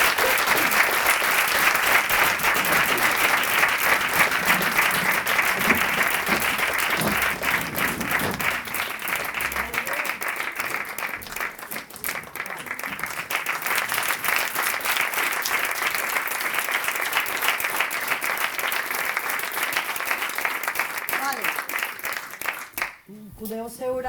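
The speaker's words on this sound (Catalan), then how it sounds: "Una aplaudiment." An audience applauds at the end of a school theatre play. The clapping is loud, dense and sustained for over twenty seconds with little change, and ends abruptly.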